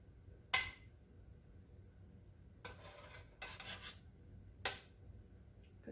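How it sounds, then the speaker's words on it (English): A spoon scrapes foam across the side of a cooking pot of wild muscadine jam, making a few short, close rasping strokes separated by quiet pauses, with no talk. "I have to kind of tilt my pot so that I can scrape all this foam over to one side"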